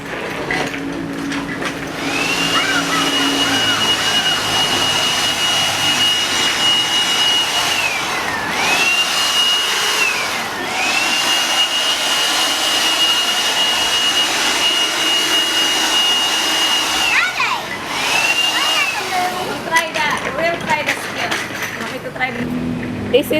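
A Makita DUB182Z cordless 18V lithium-battery blower runs continuously and loudly up close, a steady rushing whine with a motor pitch that dips and recovers a few times, out in a front yard.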